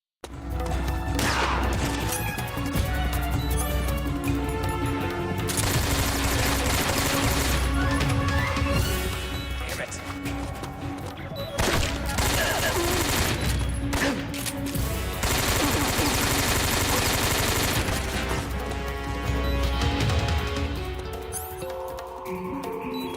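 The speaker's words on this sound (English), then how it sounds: "Get out the good old AK." AK rifle fire in Metal Gear Solid 3, a dense continuous rattle of automatic shots running almost the whole time, loud and close, with brief gaps and game sounds mixed in.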